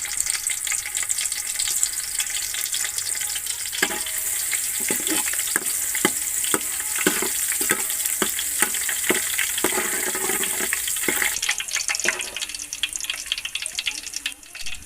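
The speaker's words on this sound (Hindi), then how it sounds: "अब इसमें लहसुन डालेंगे।" Garlic frying in two big spoons of ghee in a pot on the stove, a steady close sizzle with a scattering of stirring clicks and scrapes through the middle.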